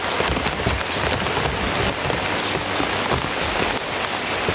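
Heavy rain pours down in a steady, dense hiss, loud and close, drumming on surfaces with no voices.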